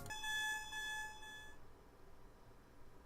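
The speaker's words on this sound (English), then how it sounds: "A frantic beeping noise interrupts our discussion" A rapid electronic alarm beeps in steady, insistent tones for about a second and a half, then cuts off, leaving faint background noise.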